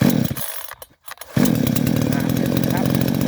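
A model 5200 chainsaw engine, started with the choke pulled, sputters, cuts out briefly, then catches and runs at a steady rough idle, close and loud.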